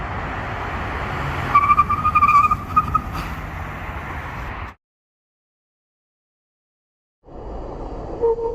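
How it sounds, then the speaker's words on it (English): Modded 2019 Mitsubishi Mirage braking hard during a brake test, with slotted and drilled rotors and carbon ceramic pads: loud road and tire rush with a squealing tone, then a sudden cut to silence before the noise resumes. "we're going to do a fifth and final brake test"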